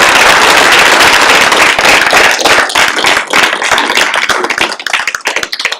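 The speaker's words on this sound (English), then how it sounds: "have a round of applause for Nolan." Loud, dense applause from a signing-day audience for an apprentice, close and continuous, thinning into scattered claps at the end.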